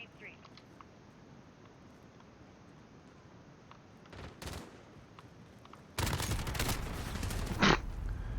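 Gunfire in Call of Duty: Modern Warfare (2019) plays as game audio: faint scattered shots early, a couple of sharper bursts, then a loud dense volley near the end, with a voice speaking over it.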